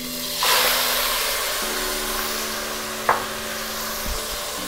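Mutton hitting hot oil with whole spices in a pan, a sudden loud sizzle that settles into a steady hiss, with a clink of the utensil partway through.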